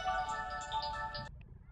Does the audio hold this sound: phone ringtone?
yes